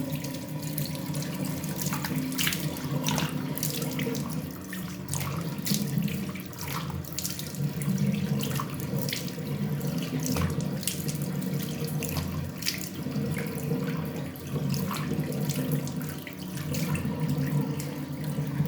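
Water from a tap runs steadily into a sink during face washing, a close continuous splashing and gurgling with small irregular splashes from hands moving through the stream.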